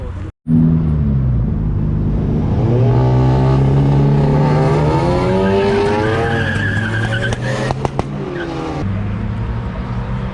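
A high-revving Audi R8 sports car engine roars loudly, its pitch climbing and sweeping as it passes close by at a wet night street race in Warsaw, with brief tyre noise near the end.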